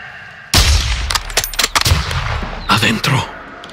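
Gunfire in the Call of Duty video game during the All Ghillied mission: a sharp, loud blast opens, then a series of crisp shots and rattling bursts crack through the rest of the stretch, close and punchy.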